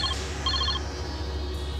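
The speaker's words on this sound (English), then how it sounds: "She redialed the number quickly." A telephone number is redialed with touch-tone keys, producing a quick run of short beeping dial tones over a low steady hum, then only the hum remains.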